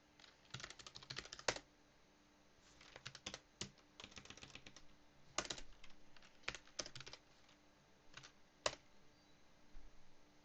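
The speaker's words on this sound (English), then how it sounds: "type in my password" Keys are pressed on a computer keyboard while a password is typed, in quiet bursts of rapid clicks broken by short pauses, fairly faint and with no talking.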